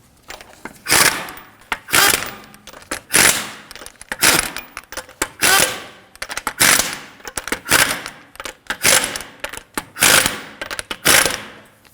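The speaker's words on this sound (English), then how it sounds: "Now, snug down the lug nuts." Lug nuts on a Subaru Crosstrek wheel are snugged down with a ratcheting impact or power tool in repeated short bursts of loud mechanical rattling separated by brief pauses.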